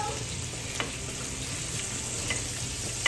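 Onion frying in reused oil in a pan for Salisbury steak, giving a steady, even sizzle throughout with a few faint clicks of a utensil, no voices.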